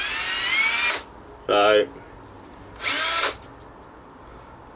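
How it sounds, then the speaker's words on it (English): A power drill whirs in three short bursts, a long one, a brief high-pitched spin, then another, with a word spoken between, during work on a Rover P6 V8 engine's rocker shaft. "Drill's running true now."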